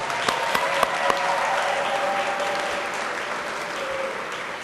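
An audience at an Indiana State House charter schools event applauds the mayor, a dense sustained round of clapping that holds steady and slowly tapers over several seconds.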